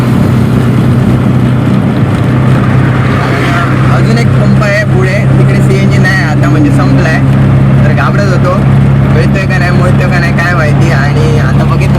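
A petrol auto rickshaw runs along a highway, its engine a steady loud drone with road noise throughout, while someone talks over it the whole time.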